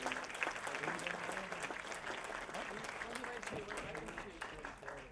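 Crowd applauding two honorees at a charity event, scattered clapping mixed with chatter and voices in the room, fairly faint and distant throughout.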